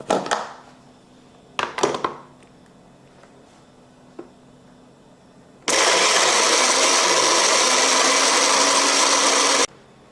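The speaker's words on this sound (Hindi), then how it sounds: "इस तमाम को हम इसमें डाल के ग्राइंड कर लेंगे।" Electric kitchen grinder whirring loudly for about four seconds as it grinds whole spices, including black pepper, for tandoori masala, preceded by a few sharp clatters of the spices and jar being handled.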